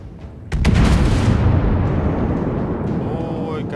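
Warship main guns in World of Warships, one heavy booming salvo that hits suddenly and rumbles away over several seconds, with a voice speaking during it.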